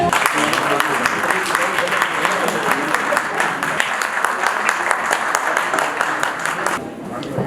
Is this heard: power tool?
no